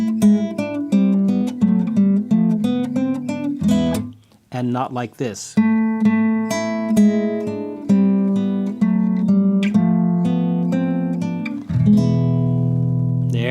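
Plucked acoustic guitar notes play the melody of God Rest Ye Merry Gentlemen in a steady flow; a short spoken phrase interrupts midway before the picking resumes.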